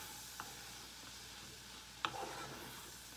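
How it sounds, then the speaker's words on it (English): Ebi-mame, small shrimp with beans, simmer in a pan as mirin is stirred in, a faint soft sizzle with two brief light clicks of a utensil, the second followed by a short scraping stir. "add mirin in it. And mix a little."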